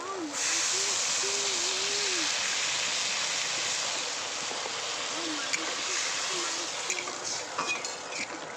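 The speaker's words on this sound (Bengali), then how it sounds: "আলু মশলা ভালো করে কষানো কিন্তু হয়ে গেছে এই দেখুন সাইড থেকে তেল ছেড়ে দিয়েছে এবার আমি জল দিয়ে দেবো" Water rushes into a pan of potato and spice masala for a Bengali pomfret fish curry, a steady broad pour and hiss throughout, with a person talking over it.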